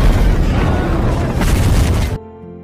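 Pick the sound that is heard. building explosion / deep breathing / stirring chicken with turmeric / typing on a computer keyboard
building explosion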